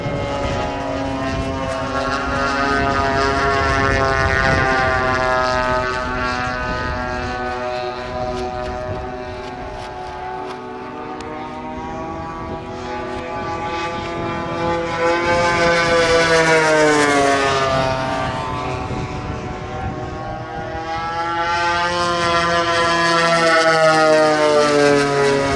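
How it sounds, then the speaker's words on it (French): An RC model de Havilland Mosquito DH.98 at the Senlis Flying Legends RC show roars past very low and fast, its loud propeller engine drone swelling and shifting in pitch as it passes, with no talk. "Très bas, très vite, comme souvent dans les opérations de Mosquito."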